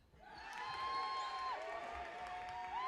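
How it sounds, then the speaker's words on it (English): Crowd at a Pittsburgh Steel City YellowJackets versus Cleveland Blazers basketball game swells into cheering and applause, rising after a quiet start and holding loud, with a whistle-like tone sliding in and out on top. "You hear the crowd igniting there"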